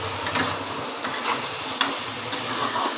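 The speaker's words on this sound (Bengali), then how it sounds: "এবার সব আলু পটল সব দিয়ে একসঙ্গে মশলার সাথে কষিয়ে নিচ্ছি ভালো করে" Whole pointed gourd and potato chunks sizzle with spices in a pan while being stirred, a bright steady frying hiss broken by several sharp scraping clicks of the spoon against the pan.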